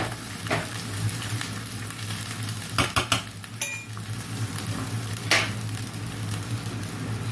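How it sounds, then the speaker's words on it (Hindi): Rice for zarda (sweet rice) tips into a pot, giving a soft scattered pour and a few metallic clinks of a utensil against the pan over a steady background hum. "ये अब मैं चावल डालने लगी हूँ।"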